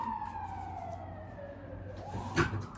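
An emergency vehicle siren wails steadily with a falling pitch sweep as it passes, moderately distant, over constant busy-street traffic rumble, swelling briefly louder near the end.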